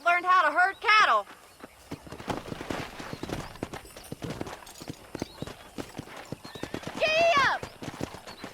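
A horse in the Red Dead Redemption video game whinnies loudly at the start and again near the end, with a quick run of hoofbeats and clip-clop in between under a voice.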